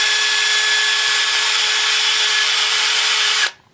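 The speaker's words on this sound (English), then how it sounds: "drill a hole through it, make it bigger so that I can fit it onto here" A power drill bores through an old, splitting plastic 10-tooth gear to enlarge its hole. The loud, steady whine runs unbroken for about three and a half seconds, then cuts off abruptly, with no talking.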